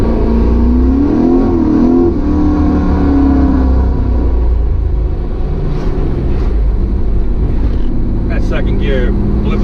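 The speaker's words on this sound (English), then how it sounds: "Second gear, flip of a throttle." A supercharged LT1-powered 1995 Pontiac Firebird Trans Am accelerates hard in second gear, its engine roaring loudly and steadily for the whole stretch, with a deep rumble underneath.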